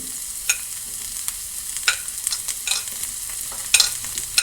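Sliced small onions soften in a hot pan for a kaipakka (bitter gourd) theeyal, giving a quiet, steady sizzle broken by a few sharp spoon scrapes and taps against the pan.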